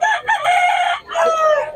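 Roosters crowing at a roadside in Bocaue: two loud, close cock-a-doodle-doo calls, one straight after the other, with little else around them.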